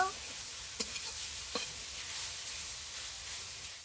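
Leafy greens with green chilli fry in a hot pan with a steady, hissing sizzle, broken by a couple of soft stirring scrapes.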